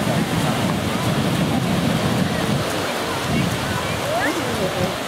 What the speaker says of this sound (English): The waves are really big today.